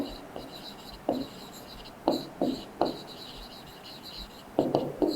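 Marker or chalk writing on a board during a maths class, heard as irregular short scratchy strokes at close range, some clustered in quick pairs, against a steady background hum.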